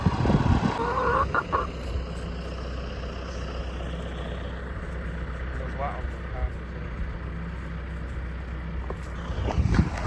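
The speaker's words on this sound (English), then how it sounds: "Feeding the chickens" Chickens cluck and chatter in a steady group, with a low engine rumble running underneath and a few louder bumps near the start and end.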